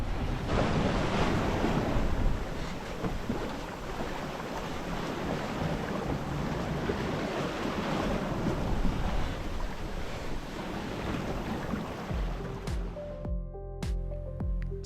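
Sea waves rush and break around a long keel sailboat running downwind across the North Sea, with steady wind buffeting the microphone throughout, loud and close, until the noise thins near the end.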